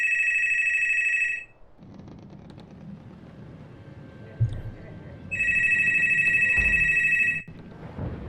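A phone ringing loudly in two long electronic trills separated by a pause, with a person talking in between.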